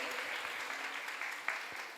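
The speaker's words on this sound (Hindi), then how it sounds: "जोरदार तालियां बजाएं इनके लिए" Audience clapping at a question-and-answer quiz event in a Digambar Jain temple in Ashok Vihar, a steady broadband patter lasting about two seconds with a faint voice underneath.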